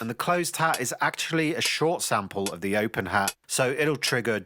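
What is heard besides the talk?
No distinct noise like a dog, phone or traffic.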